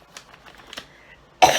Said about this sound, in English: And I'm sorry if I keep coughing,